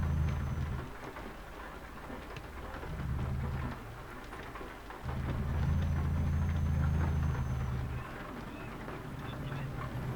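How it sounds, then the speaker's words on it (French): Steady rain patters and hisses in the Euro Truck Simulator game, accompanied by a low rumbling engine drone that rises and falls in level through the clip. "Ah ouais, il pleut."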